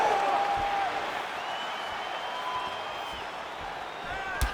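A packed arena crowd at a UFC 5 mixed martial arts bout roars and applauds in a steady, dense wash that stays loud and sustained throughout, with a slight swell near the end.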